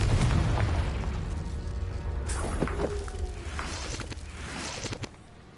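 A Confringo fire spell explosion in the Hogwarts Legacy video game, a deep rumbling boom that bursts and fades over several seconds with faint crackles and game effects.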